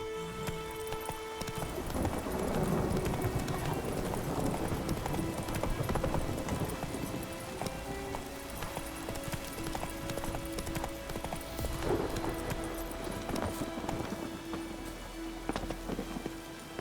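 Roach, the horse in The Witcher 3: Wild Hunt, gallops in a rapid, continuous hoofbeat rhythm through steady rain, the hooves clear and close over the patter of falling water.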